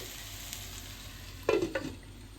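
Okra (ladies' finger) sizzles quietly in a pan, then a brief burst of stirring and scraping comes in close, a short scuffle of utensil against the pan before the low frying hiss settles again.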